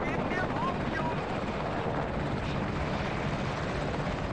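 An Apache attack helicopter in the war game WARNO drones as a continuous rotor and engine wash, broad and steady under the game's battle noise.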